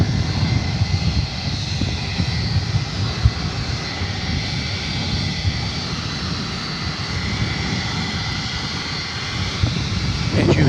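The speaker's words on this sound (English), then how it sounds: "And you hear in the background a 757, which is just arriving at UPS." A Boeing 757 arriving at DFW airport at night gives a loud, sustained, broad roar of jet engines that holds steady throughout, with no talk over it.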